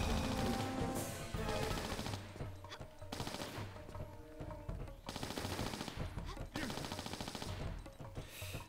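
Rapid bursts of gunfire in the Tomb Raider 4 video game, loud and repeated with brief pauses between volleys.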